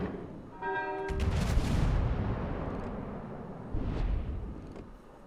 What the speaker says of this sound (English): There's his guns going off.